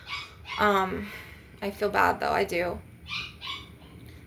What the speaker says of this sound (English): I'm so sorry about the barking.